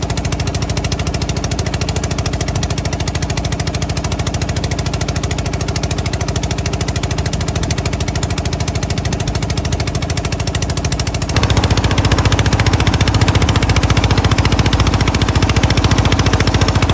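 A trawler boat's engine runs loud and close in the Sundarbans, a harsh rapid knocking drone that holds steady throughout and grows louder and rougher near the end.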